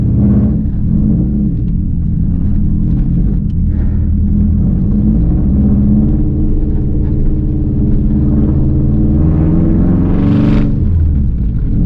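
A Subaru 2.5RS with a swapped-in WRX engine drives off, its loud, close engine rumbling steadily with rising and falling revs and a brief sharper burst near the end.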